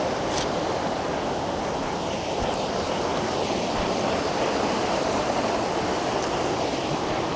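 Powerful forest stream in Siberian taiga on Khamar-Daban, swollen after rain upstream, rushing in a steady loud roar that fills the whole stretch without pause, close by and with no talk.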